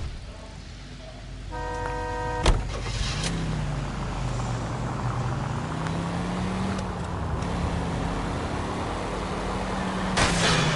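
A commandeered car in the L.A. Noire video game drives with a steady, continuous engine drone that rises and falls slightly, with a short horn-like tone early and a sharp knock partway through.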